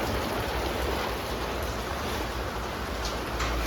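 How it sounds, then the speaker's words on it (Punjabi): Steady, dense broadband hiss of heavy rain pouring down continuously, with no voices and no break in the downpour. "ਬਹੁਤ ਜ਼ਿਆਦਾ ਮੀਂਹ ਆ ਗਿਆ"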